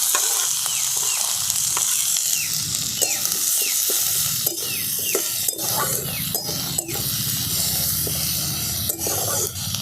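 Chopped capsicum, tomato, coriander leaves and green chilli sizzle steadily in a hot pan for a tiffin dish, with a constant hiss broken by frequent scraping stirs close by.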